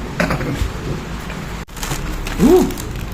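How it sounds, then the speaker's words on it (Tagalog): Rain falling outside, heard as a steady wash of hiss with a low rumble underneath, and one brief clunk partway through. "Umuulan na sa labas, grabe."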